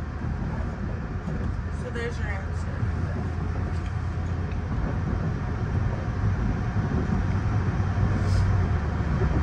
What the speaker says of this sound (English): This is a diesel multiple unit train, DMU train, built by Nippon Sharyo.